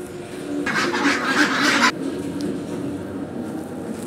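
White farm ducks quacking and honking in a short loud burst of calls over outdoor background noise, followed by quieter ambience.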